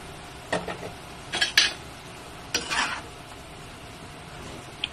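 A utensil stirs chopped eggplant in a metal cooking pot for a vegetable dish, giving a few short bursts of scraping and clinking separated by quiet pauses.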